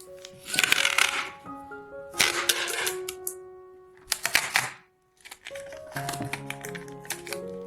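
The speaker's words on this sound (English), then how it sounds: "There's another way to tear off tape." Several sharp bursts of tape being ripped and torn from a roll, loud and close, in quick separate pulls with brief pauses between, no talking.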